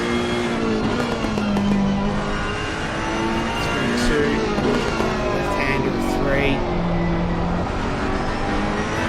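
Ferrari race car racing a Bentley through sweeping corners at Zandvoort in a PS5 racing game, engine screaming at steady high revs throughout, loud and continuous with a broadband roar and shifting harmonic whine, crowd-like noise and faint talk underneath.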